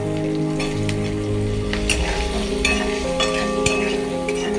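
Nigella seeds and dried red chillies sizzle in hot oil, a close crackling hiss with occasional sharper pops, accompanied by background music.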